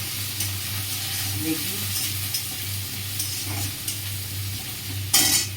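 Sliced onions fry in hot oil in a pan while being stirred, a steady close sizzle with scraping spoon strokes and a sharper clatter near the end; a voice speaks briefly.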